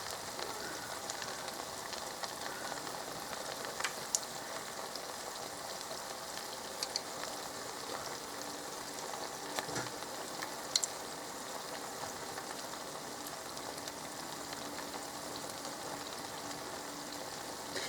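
Beer-battered onion rings deep frying in oil heated to 375 degrees give a steady, even sizzle and crackle with a few sharper pops, close up and alone with no talking.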